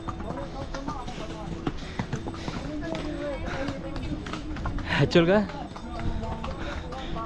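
Horse hooves clop along the Kedarnath pilgrimage trail in a steady rhythmic patter, close by and moderately loud, while someone talks over them throughout.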